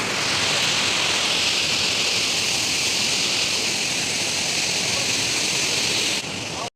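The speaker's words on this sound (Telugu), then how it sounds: "వాటర్ ఫాల్స్ నిజంగా చాలా బాగుంది. సౌండే చాలు వినండి మీరు కూడా నాతో పాటు." A waterfall rushing, a dense, loud, continuous roar of falling water heard up close, steady for several seconds before cutting off.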